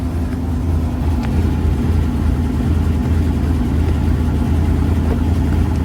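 A late model race car engine, an asphalt pro late model, rumbles loud and close with a steady, heavy throbbing drone that holds without pause.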